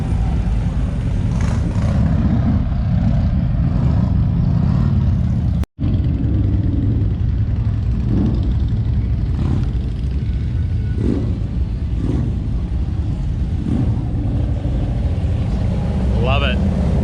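Motorcycle engines rumble continuously on a busy street during Daytona Beach Bike Week, loud and close, with revs swelling and fading as bikes pass. A brief dropout breaks the sound partway through, and a voice talks over the engine noise.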